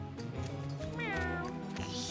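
A cat meows with a rising, warbling call in the Mewgenics video game, heard clearly over steady game music throughout.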